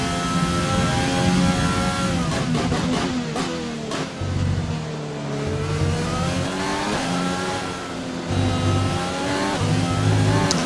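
A Formula 1 car engine in a racing video game drones steadily and loudly through a corner, its pitch dipping and rising with gear changes and throttle, with no talk over it.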